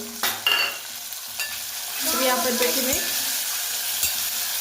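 Tomatoes sauté in a pan with a soft sizzle that builds into a steady hiss, broken by a few scraping stirs and light clinks of a utensil, close by and without speech.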